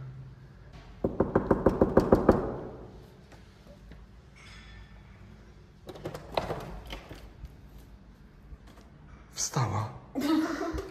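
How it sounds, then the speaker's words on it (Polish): Knuckles rap on a door in a quick burst of about seven close, sharp knocks, followed by quiet, then a few fainter taps and soft voices near the end. "Pukam, pukam."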